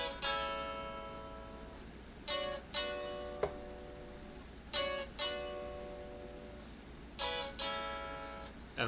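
An electric guitar plays the verse chords of Someday, with bright strummed chords struck in pairs every couple of seconds and each left to ring and fade between strikes.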